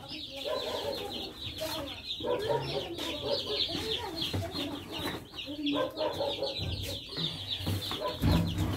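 About forty newly hatched chicks, roughly five hours old, peep and chirp continuously in a cage, a dense, busy chorus close by with occasional voices and handling noises in the room.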